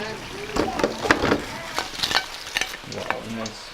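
Samosas frying in hot oil at an outdoor food spot on Lamu Island, Kenya, with bubbling sizzle and stirring clatter, scraping and knocking in irregular bursts, close and fairly loud, under occasional voices.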